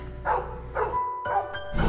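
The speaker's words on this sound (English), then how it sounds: "like a dog barking around certain areas of the house" A dog barks three times in a steady, fairly close series of short, loud barks inside a house.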